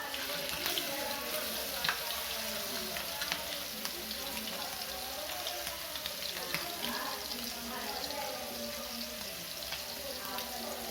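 Shrimp frying in oil in a pan, a steady, dense sizzle and crackle running throughout at moderate level with no pauses.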